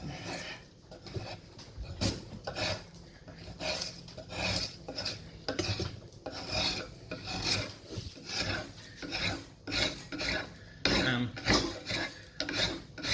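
A drawknife shaves down an Osage orange bow stave in repeated rasping strokes, close and fairly loud, each pull giving a scraping burst with short pauses between; no talking.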